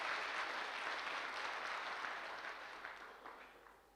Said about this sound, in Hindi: उस प्रोफेशन के लिए भी जबरदस्त वाली ताली